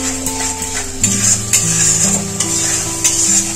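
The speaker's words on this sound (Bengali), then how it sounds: "মশলাটা একটু কষিয়ে নেব।" Spice paste of ground ginger, green chilli, turmeric, cumin and coriander powder frying in a pan, a steady sizzle with periodic scraping stirs of a spoon, fairly loud and close, over faint background music.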